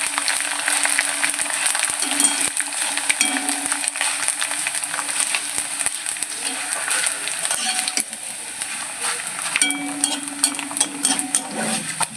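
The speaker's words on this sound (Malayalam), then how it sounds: "ഓയിൽ നന്നായി ചൂടായിട്ടുണ്ട്. ഇത് നമുക്ക് കുറച്ച് ഇട്ട് വറുത്തെടുക്കാം." Idiyappam-style snack deep frying in hot oil over a medium flame, giving a steady, dense sizzle that runs the whole time with no talking.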